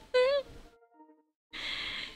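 A person imitates loud snoring with their voice: a short voiced, sighing sound, a brief quiet gap, then a long, rough, breathy exhale held for under a second, close to the mic and with no words.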